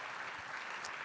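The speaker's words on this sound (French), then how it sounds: "Je pense que ça mérite des vrais applaudissements." Brief burst of audience applause during a talk about a new generation of athletes, steady broadband clapping at moderate level with no voices over it.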